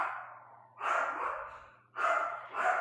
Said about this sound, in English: My dogs are freaking out.